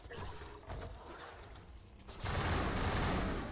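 Rapid gunfire from a gun in Mass Effect crackles in quick bursts against an alien, then swells into a louder dense blast of fire in the final second, with no talk.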